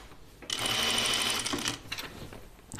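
A sewing machine runs a steady burst of stitching along a quarter inch side seam on a Kalle shirtdress, loud and close for about a second, then slows with a few uneven stitches and soft handling noises.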